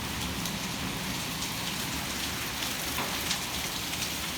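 Penny-size hail pelts down during a severe warned storm with 40 mph winds, a dense, steady patter of impacts hissing evenly throughout with no voices.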